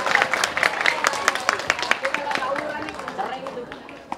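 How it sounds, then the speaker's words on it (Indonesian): Students applauding at a school anti-bullying seminar, a steady patter of many hands clapping at moderate volume, fading toward the end. "Ya tepuk tangan dulu."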